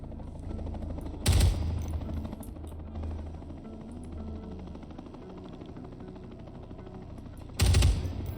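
A helicopter flies over a Ground Branch video game session, a low droning thrum beneath the scene, broken twice by short loud bursts of gunfire.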